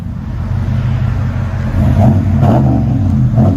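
A 2020 RAM 1500 Laramie with a 5.7L HEMI V8 and Flowmaster Super 10 dual exhaust with resonator deletes rumbles loudly nearby, then is revved in a few short, throaty blips over its deep idle.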